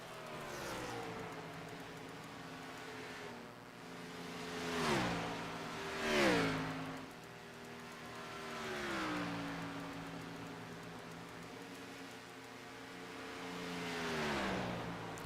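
Race car engines whine and rev in a motorsport video game at Charlotte, pitch climbing and dropping as cars sweep past several times, fairly faint overall with swelling passes.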